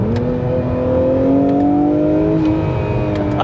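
Engine of an Acura NSX Type-S revving up through a downshift to second gear, heard from inside the cabin as a loud, steady rising drone with layered harmonic whine.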